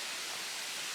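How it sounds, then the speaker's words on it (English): Rushing water from the Gozalandia waterfall forms a steady, dense roar, even and unbroken for about a second, with no voices. "I can hear the water. Let's go check out this waterfall."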